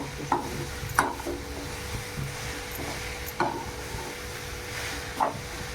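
Dry fruit, sugar and cardamom modak filling being roasted and stirred in a pan, a low steady sizzle broken by a few sharp scraping knocks of the spoon at intervals, close and with no talking.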